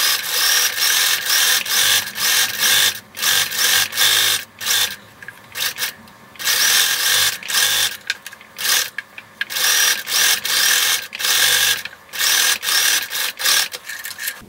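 Sewing machine stitching an elastic casing on a t-shirt, sounding as rapid bursts of mechanical whirring broken by short pauses, close and loud with no talking.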